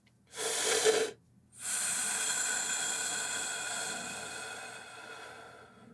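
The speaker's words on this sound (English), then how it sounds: "So keep your stomach out and only let the ribs come in to create that exhale." Two breathy exhales through the mouth, one short hiss and then a longer steady one that slowly fades, heard up close in a quiet room as a person breathes out using the ribs during breath support practice.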